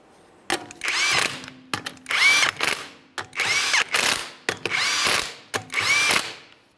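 Power tool driving the 19mm lug nuts on a Ford Fusion wheel, with five close, loud whirring bursts about a second each, separated by short pauses as it moves from nut to nut.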